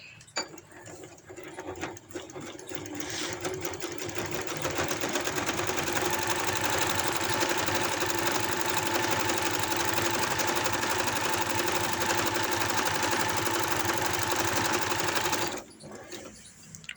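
A sewing machine stitches the side seam of palazzo pants, starting with a few clicks, then running into a steady, loud mechanical whir for over ten seconds before stopping abruptly; no one speaks.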